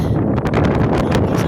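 Strong wind buffets the microphone outdoors along the Esplanade waterfront, a steady loud roar with gusty surges and rumbling low buffeting throughout, no voices.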